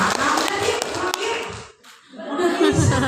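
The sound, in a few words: audience applause at teacher training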